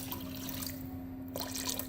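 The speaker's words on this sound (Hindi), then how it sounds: "अब मैं ज़रा सा पानी इसमें और ऐड करूँगी।" A small amount of water is poured into semolina halwa cooking in a pan, giving a steady splashing, trickling pour over a constant stove hum, close and fairly loud.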